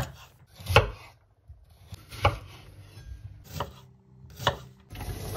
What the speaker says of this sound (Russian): Морковь и лук нарезаем соломкой.